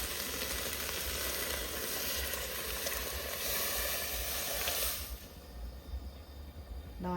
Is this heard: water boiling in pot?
yes